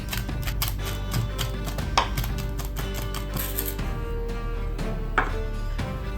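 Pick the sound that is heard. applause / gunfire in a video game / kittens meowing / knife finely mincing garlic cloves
knife finely mincing garlic cloves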